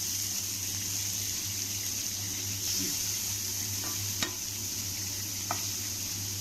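Onions fry in oil with a low, even sizzle over a steady background hum, broken by a couple of sharp clicks from the utensil, heard close with no talking.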